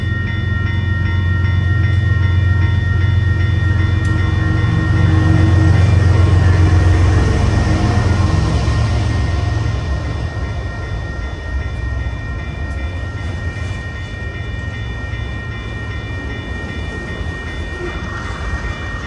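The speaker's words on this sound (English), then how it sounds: "it was a southbound BNSF automotive or vehicle train" A southbound BNSF automotive freight train rolls past close by in a loud, continuous rumble of wheels and cars that fades slightly toward the end, with no voices.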